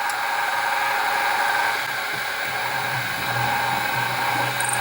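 A drill bores slowly through oiled tomahawk metal, giving a steady, continuous whirring hum with a faint low grinding underneath that shifts slightly partway through.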